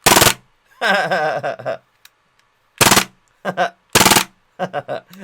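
AAP-01 green gas blowback airsoft pistol fired on fully automatic, with short loud bursts of rapid cracks separated by pauses, alternating with someone talking between strings.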